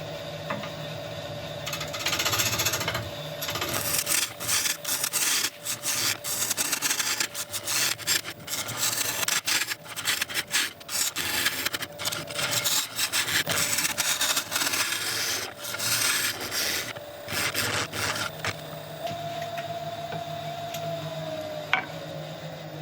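A woodturning lathe cuts a spinning wood piece, giving a continuous close scraping and hissing rasp with choppy bursts as the tool works along the piece, and a steady motor hum underneath.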